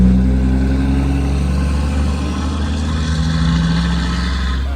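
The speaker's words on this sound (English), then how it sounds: "Waiting for the dump trucks to go by." Heavy dump trucks roll past outdoors in a steady, loud low engine rumble that holds for the whole stretch, with no talk over it.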